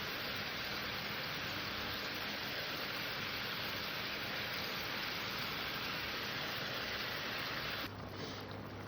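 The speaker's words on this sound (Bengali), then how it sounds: "আমার ঝোলটা ফুটে গিয়েছে এবার আমি এক এক করে কোপ্তাগুলো ছেড়ে দেবো" Katla fish kofta curry broth boiling in a pan, a steady hissing, bubbling rush that holds evenly before easing slightly near the end, with no voices.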